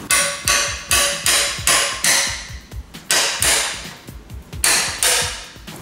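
A hammer drives a through-tang screwdriver into a metal oil can to punch air and pour holes for a differential oil change, making a steady run of about a dozen ringing metallic strikes up close, with brief pauses and no talking.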